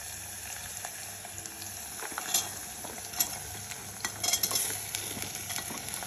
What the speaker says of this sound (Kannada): ಈಗ ತರಕಾರಿಗಳೆಲ್ಲ ಹಾಕ್ಕೊಳ್ತಾ ಇದ್ದೀನಿ